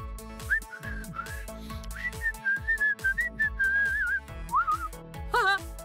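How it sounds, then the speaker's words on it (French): A melodic whistled tune, clear and close, with rising and falling pitch over a steady rhythmic backing beat. "Whistle, siffler en anglais commence par la lettre W."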